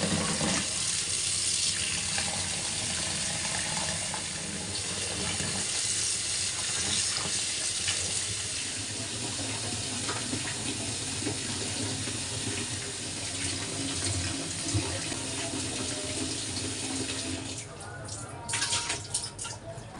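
Bean leaves are rinsed under a running kitchen tap, a constant close rush of water with splashing and handling clatter toward the end.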